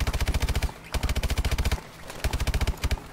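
Rapid automatic gunfire from a new gun in the video game Call of Duty: Advanced Warfare, three loud sustained bursts of rhythmic shots separated by brief pauses, with no speech over them.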